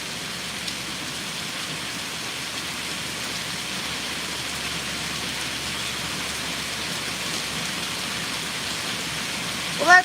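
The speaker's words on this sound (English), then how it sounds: "not only are you getting the fountain noise, but you're getting the rain out here." Steady rain hisses down outdoors beside a splashing fountain, a dense even wash of drops continuing for the whole stretch with a brief louder bump at the very end.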